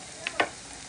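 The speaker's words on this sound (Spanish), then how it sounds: "ahí está friendo la cebollita y el ajo" Chopped onion and garlic frying in a pan give a faint, steady sizzle, broken by two quick, bright scrapes of stirring close by.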